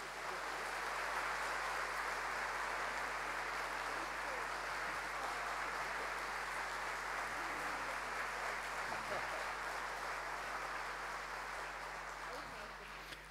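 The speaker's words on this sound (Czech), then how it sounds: "poprosím ještě o pořádný potlesk pro naše kolegy" An audience at a school anniversary academy applauds colleagues in a steady, dense round of clapping that runs throughout at moderate level, with no voices breaking through.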